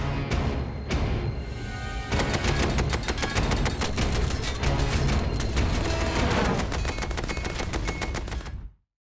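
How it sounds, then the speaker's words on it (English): A loud, dense rattle of rapid machine-gun rounds striking a tank's metal hull in quick, relentless succession, building after a few early shots, then cutting off abruptly. "By now, machine gun bullets are smashing against the tank."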